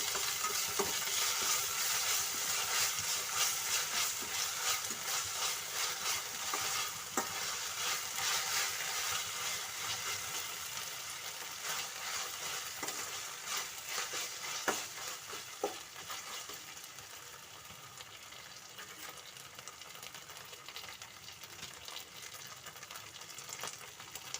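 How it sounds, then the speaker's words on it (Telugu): Dried red chillies fry in oil in a pan before ginger-garlic paste goes in for a tomato egg curry, giving a continuous bright sizzle with scattered stirring clicks and scrapes that eases slightly toward the end, with no speech. "ఇది కొంచెం ఇలా ఫ్రై అయిన తర్వాత దీంట్లోకి కొద్దిగా అల్లం వెల్లుల్లి పేస్ట్ వేసుకొని కలుపుకుందాం"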